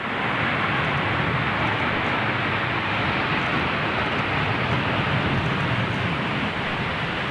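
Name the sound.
Airbus A330 jet landing with thrust reverser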